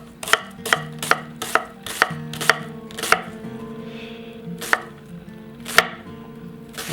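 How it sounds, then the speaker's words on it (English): Onions diced on a cutting board with a Victorinox Fibrox 8-inch chef's knife: sharp, close knife taps come in a quick even run, then slow to a few spaced chops, with no voices. "And this thing makes dicing onions so easy, so fine."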